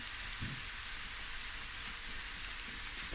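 Penny polony sausage frying on medium heat for a Cape Malay smoortjie: a steady, soft, even sizzle and crackle throughout, faint and continuous, with one low thump and no voices.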